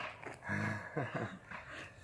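A dog panting quietly in a garden, soft rhythmic breaths in short bursts, faint and close, with no talking.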